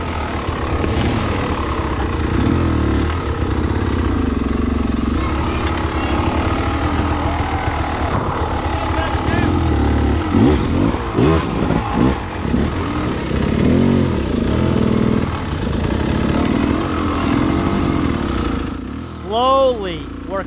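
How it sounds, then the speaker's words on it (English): An enduro dirt bike stuck on a hard enduro race course runs loud and close, its engine revving up and down unevenly while a rider talks over it. "fire up the bike, and push her forward"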